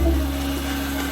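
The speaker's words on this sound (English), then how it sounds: "So we're scrubbing the wax off" A scrubbing machine working wax off a hardwood floor, a steady low motor hum with a rough rubbing texture, close and constant for a brief moment.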